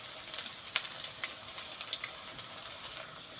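Stale bread slices fry in a pan with a faint, steady sizzle and scattered small crackles and pops, with no voices.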